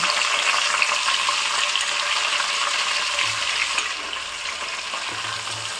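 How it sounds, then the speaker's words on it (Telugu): Half a kilo of tomatoes fry in hot oil in a pan, a loud, continuous close-up sizzle with a constant hiss that eases slightly partway through. "ఆయిల్లో ఫ్రై చేసుకుందాం."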